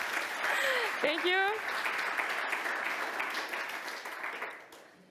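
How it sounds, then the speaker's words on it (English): An audience applauds after a technical demo at a conference talk, a steady wash of clapping lasting several seconds that fades toward the end, with a brief spoken thanks from the presenter at the start. "the applause is for them"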